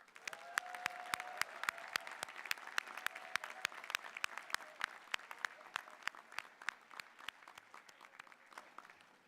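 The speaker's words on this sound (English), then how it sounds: "Let us give another round of applause for these exceptional graduates." Sustained applause from a commencement audience honoring graduates, dense steady clapping with many sharp individual claps standing out, filling the whole stretch without voices.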